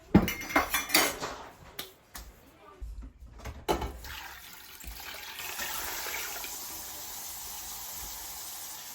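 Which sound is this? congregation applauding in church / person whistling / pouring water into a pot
pouring water into a pot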